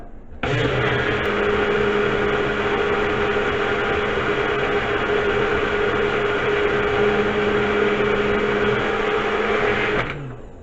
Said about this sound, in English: my blender also happens to be a cup